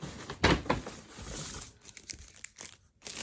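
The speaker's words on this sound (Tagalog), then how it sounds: "Gugunting-guntingin natin ito ng" Scissors cutting through a plastic table cloth, giving crinkly snips and rustles in quick bursts at close range, with short pauses between them.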